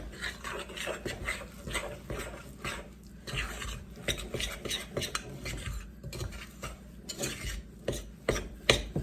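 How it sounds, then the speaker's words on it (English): Spoon scraping and stirring a thick mixture of flour, nuts and melted butter in a bowl, steady repeated rasping strokes close up, no talking. "We'll just mix that all together."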